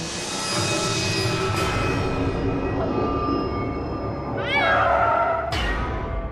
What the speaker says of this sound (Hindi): बिल्ली आ गई